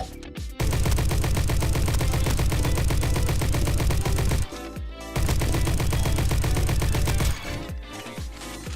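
Rapid automatic gunfire from the 9mm in the Roblox game Bad Business rattles loud and close in two long sustained bursts, separated by a short pause, with a final shorter burst tailing off.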